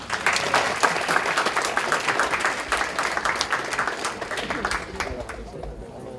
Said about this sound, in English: Ladies and gentlemen, a warm applause.